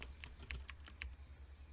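Keyboard typing in the video game In Jessika: a handful of crisp key clicks in an uneven rhythm, quiet and close, over a low background hum.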